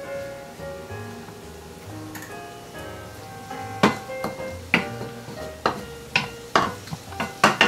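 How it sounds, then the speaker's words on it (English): Goat cheese with garlic melts in a pan and is stirred, a low simmering bubble at first, then a run of regular scraping strokes of the utensil against the pan, close and alone. "We're gonna want to melt this down a little bit before we add more ingredients."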